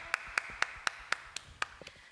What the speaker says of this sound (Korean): 다 같이 하나님께 영광의 박수 올려드리겠습니다.